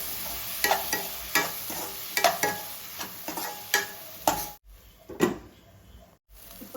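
Onions, carrot and tomato frying in a pan for egg fried uggani, with a soft sizzle under repeated spatula scrapes and stirs at a steady rhythm, close up, no talking.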